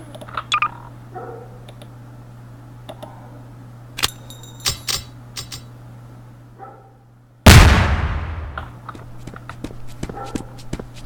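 Grenade explosion in Garry's Mod DarkRP: one loud, sudden blast that decays over a couple of seconds. A steady low hum and scattered small clicks and thuds come before it.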